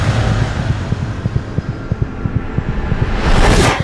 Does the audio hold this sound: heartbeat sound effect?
yes